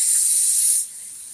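Cooking spray hisses onto a hot pancake pan in one steady burst that cuts off abruptly, leaving a fainter lingering sizzle.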